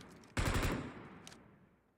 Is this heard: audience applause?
no